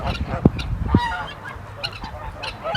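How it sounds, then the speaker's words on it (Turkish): A large goose wandering in a farmyard at sunset gives several sharp honks at uneven intervals, close by, over faint background noise. "kocaman kazımız da şöyle önümüze geldi geziyor"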